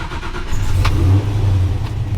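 A 1955 Chevy engine runs close by with a steady low idle rumble and a quick rev that swells and drops back, heard alone without speech.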